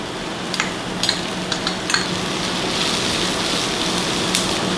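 Onion, garlic and celery sautéing in a pan, a steady close sizzle with several brief clicks and scrapes of stirring near the start and no talking.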